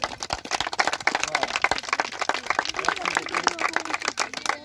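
A small crowd at an outdoor youth sports event in Mangala claps by hand: sharp, irregular claps come close together and overlap for several seconds, with faint voices mixed underneath.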